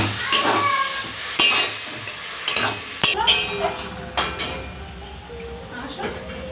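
Arum stolons frying in a pan after a splash of water is added, giving a steady sizzle with repeated spatula scrapes and stirring knocks, some pot clinks.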